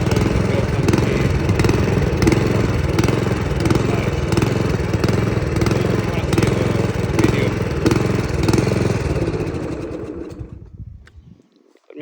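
Toro TXP 159cc self-propelled lawn mower engine runs loud and close in a steady drone, then winds down and stops near the end.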